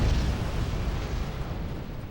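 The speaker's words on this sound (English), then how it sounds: "Pretty good explosion." Explosion in the war video game Wargames, a loud low rumbling blast that rolls on and slowly decays, heavy in the bass, with no talk.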